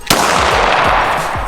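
A single pistol shot cracks sharply and close at an outdoor target game, its loud report trailing into a long echoing ring and rumble.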